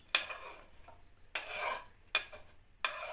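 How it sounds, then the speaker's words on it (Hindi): A spoon stirs a chopped fruit mixture into a bowl of cream, giving soft, close swishing strokes with faint clinks against the bowl, repeated in an unhurried rhythm of about four passes. "और अब इसको हम मिक्स करेंगे 1 कप क्रीम में"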